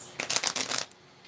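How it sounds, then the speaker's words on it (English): A deck of playing cards being shuffled during a psychic medium reading, a rapid papery riffle of dense flutters lasting under a second, close and fairly loud, then falling quiet. "So I am going to shuffle this a couple times and then flip it over."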